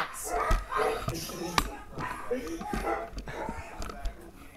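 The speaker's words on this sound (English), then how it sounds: "they don't stop freaking barking because," Several dogs barking and yipping close by in uneven bursts while a person talks over them during an outdoor radio setup.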